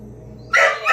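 A single sharp dog bark breaks out after a quiet stretch of low household hum in a home kitchen during holiday meal prep, close and loud, followed by a shorter second yelp.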